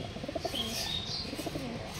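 Pigeons in a loft coo softly and steadily, several low murmuring calls overlapping at moderate distance, with faint chirps and a brief flutter of wings in the background.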